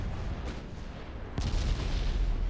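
Naval artillery in the warship game Ultimate Admiral Dreadnoughts, with heavy gunfire striking an enemy battleship: a dense rumbling barrage, a sharper boom about midway, then sustained low thunder.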